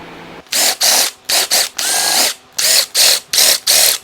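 Short bursts from a power drill enlarge the countersunk screw hole in a shoe's half rubber sole, coming as repeated loud whirring pulses with brief pauses between them, close and alone.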